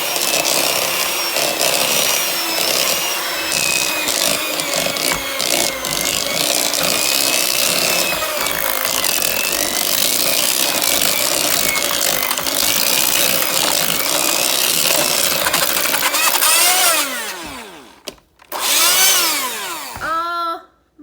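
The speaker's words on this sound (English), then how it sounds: "My mixer just blew up." An electric hand mixer beating frosting made with powdered sugar and milk grinds and rattles loudly with a harsh, uneven whir, then sputters, cuts out and starts again in strained bursts near the end.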